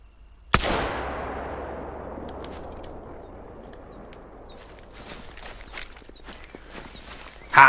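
A single loud rifle shot rings out while hunting a woolly hare in the video game The Hunter: Call of the Wild, its echo slowly decaying across open terrain, followed by faint rustling and a final sharp knock.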